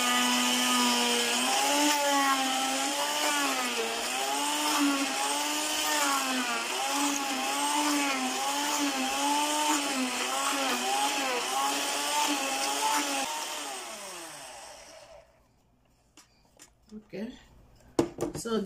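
A hand blender whirs steadily as it purees banana, coconut oil and honey, its whining pitch wavering under load for about thirteen seconds before winding down and stopping, followed by faint clicks and handling sounds.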